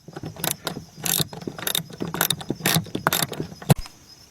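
10mm socket ratchet removing a bolt from a 2008 Chevrolet Malibu door panel, heard as loud close rhythmic ratcheting clicks in quick repeated bursts.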